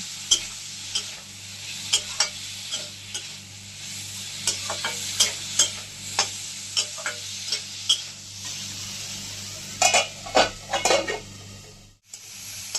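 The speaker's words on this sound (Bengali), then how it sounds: "এখন ভালো করে নাড়িয়ে নেব, ডাঁটাটাকে সাঁতলে নেব" Drumstick stems sautéing in a hot pan with salt and turmeric, a continuous sizzle under repeated sharp scrapes and taps of a spatula stirring against the metal, close and fairly loud, ending in a short pause.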